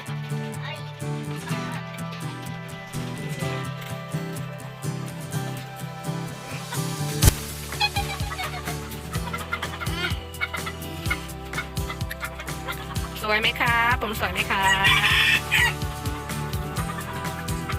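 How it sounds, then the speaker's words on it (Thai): Bantam chickens at a home in Trang, Thailand, cluck and call repeatedly close by, with occasional louder squawks and what sounds like a crow, while someone talks over them throughout. "เดี๋ยวพามาชมไก่แจ้ที่บ้านจ้า"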